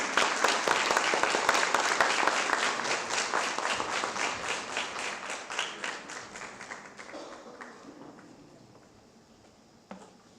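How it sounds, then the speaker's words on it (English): An audience at a literary festival applauds, a dense burst of many hands clapping that starts loud and gradually thins and fades over about eight seconds, ending in a few scattered claps. "A round of applause, please."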